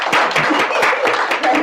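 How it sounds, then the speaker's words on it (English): An audience at a family Kwanzaa workshop in a library applauding, with steady, fairly dense clapping from a modest crowd, loud and close, with a hint of voices mixed in. "now we could give a big round of applause"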